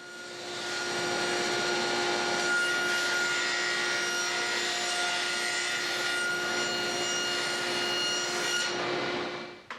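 A saw cuts steadily through a piece of 1/2-inch plywood for a backboard in a home shop, a loud, continuous close-up grinding rasp that runs for about nine seconds before stopping, with no voices.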